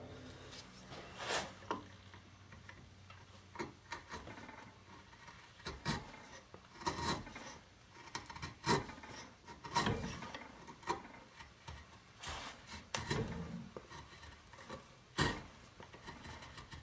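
A wood gouge smooths the barrel channel of a swamped flintlock stock, heard as quiet, intermittent scraping and rasping strokes, each short and close, separated by faint pauses.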